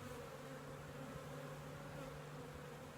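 Honeybees buzz steadily inside an open hive, a dense continuous hum holding close and even throughout with no voices.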